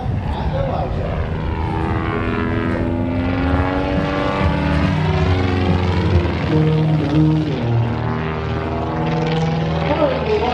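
A propeller aircraft with a 160-horsepower Lycoming IO-320 engine drones loudly and continuously overhead at an air show in Toronto, its pitch shifting as it passes, with a commentator talking over it throughout.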